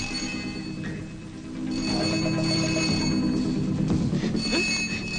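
An old telephone bell rings in a 1981 Hindi film scene, a ringing tone over a steady background hum with no talk.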